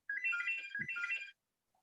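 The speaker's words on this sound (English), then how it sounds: "My phone's ringing." A mobile phone ringtone plays during a chapel parish communication meeting, a bright repeating electronic melody sounding steadily for about a second and a quarter before cutting off into silence, with no talk over it.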